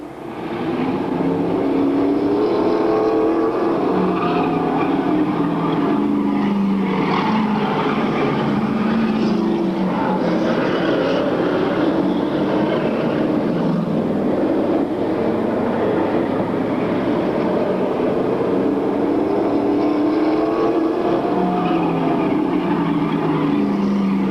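Race cars roar around Riverlake Speedway in a 1997 event, heard through a radio broadcast as one loud, continuous wall of engine noise with swelling passes and no clear talk.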